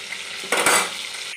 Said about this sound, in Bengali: মাছগুলো আমার ভাজা হয়ে গেছে এবার আমি তুলে নিচ্ছি